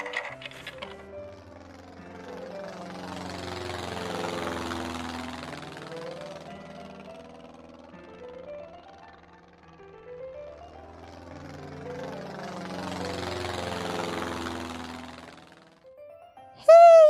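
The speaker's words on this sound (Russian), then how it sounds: "завожу мотор" A cartoon airplane motor starts up in a children's animation and keeps running, a buzzing, wavering whir that swells, fades and swells again before stopping abruptly, with no voices over it.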